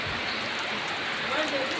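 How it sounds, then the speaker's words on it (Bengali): Heavy rain drums on the tin roof of a house in a loud, continuous patter, with a faint voice heard briefly near the end. "আমাদের টিনের ঘরের টিনের চাল ঝিমঝিম খুব সুন্দর শব্দ হচ্ছিল, যে অনেক বৃষ্টি পড়তেছিল।"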